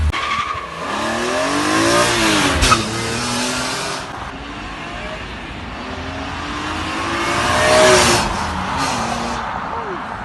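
BMW M3 E46 convertible with a manual gearbox, its intake and exhaust rising and falling through two loud acceleration runs with gear changes, recorded close from inside the car.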